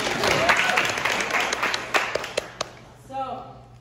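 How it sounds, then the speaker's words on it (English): Applause from a lecture audience, moderate and somewhat distant clapping that dies away near the end as a speaker's voice returns. "let's give him a round of applause."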